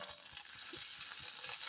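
Tomatoes dropped into garlic and ginger frying in a pan for anchovy fish curry, giving a soft, steady, hissing sizzle with faint stirring scrapes, heard close and alone.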